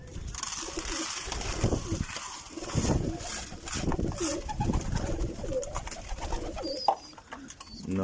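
Rooftop pigeons coo repeatedly during feeding, soft throaty calls overlapping with rustling, wing flutters and faint chirps, fairly close but quiet.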